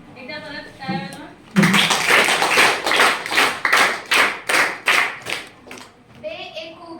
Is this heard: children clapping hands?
yes